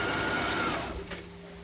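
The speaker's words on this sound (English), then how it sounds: "So then you simply, I do this straight stitch." A sewing machine runs a straight stitch on a fabric face mask, a short steady whirring hum that winds down and stops within about a second.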